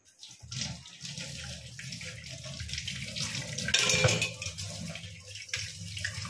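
Dishes are washed under a running tap, with water gushing steadily into a sink, clatters of plates and utensils, and a louder splash of handling partway through.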